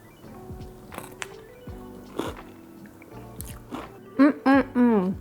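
Someone chews and bites into a caramel crunch mug cake, with close, moist chewing sounds and small crunches scattered through, then a few short voiced murmurs at the end.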